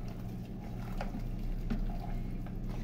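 Water poured into a cooking pot in a home kitchen, a steady close trickle and splash running continuously without pause and with no talk over it.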